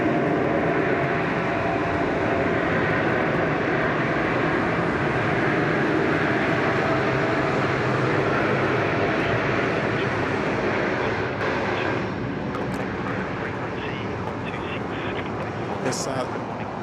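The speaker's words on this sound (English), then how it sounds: "here comes our Japan Air 787" A Japan Air Boeing 787 jet roars steadily at Sydney Airport during takeoff, a broad continuous engine rumble that swells and holds, heard from a distance under occasional talk.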